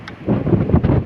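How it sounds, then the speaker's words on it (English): Strong wind on the Pennine Way in thick fog buffets the microphone with low, rumbling gusts that swell and dip over a brief moment, close and loud, with no talking. "the wind is probably going only like 30 miles an hour"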